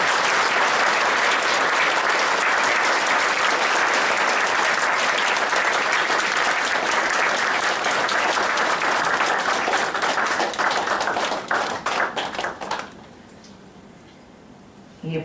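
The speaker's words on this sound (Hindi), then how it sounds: "अब दूसरी ताली भी बजा सकते हैं।" An audience claps in welcome at the inauguration celebration of Global Peace House, Sector-15, Chandigarh: dense, loud, sustained applause that thins into scattered claps near the end and then drops away to quiet.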